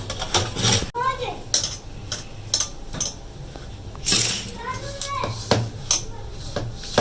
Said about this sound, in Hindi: चले बर्तन धोते हैं